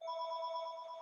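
A regular home landline telephone ringing, a steady electronic bell tone held close and loud for about a second, with no voices.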